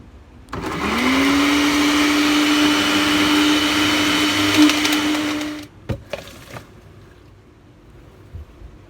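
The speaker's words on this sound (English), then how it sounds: "I just would need a more powerful blender or a machine that can grind up this plastic" A household blender grinds up plastic at home for recycling: the motor spins up sharply, holds a loud whining roar for about five seconds, then cuts off, followed by a few rattling knocks of plastic pieces.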